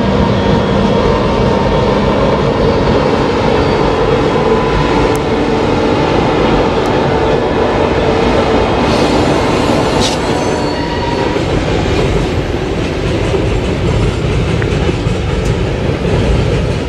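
A freight train rolls past on the Tehachapi Loop, its steady, loud rumble of wheels and cars running unbroken from start to finish, with faint squeals and clicks riding on top and no voices.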